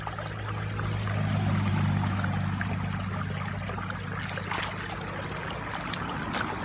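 Stream water flowing at a fishing spot near dusk, a continuous rushing pour with a low steady hum underneath, close and even throughout, no voices.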